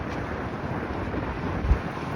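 Wind buffets the microphone on a very windy day at the River Walk in Jenks, Oklahoma, a steady low rumble with a brief gust thump near the end, close and continuous with no voices.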